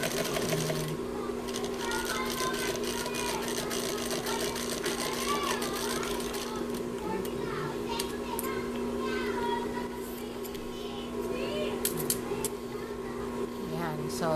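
Sewing machine stitching thick turban fabric, a continuous steady motor whir with fine needle clatter throughout, with people talking over it.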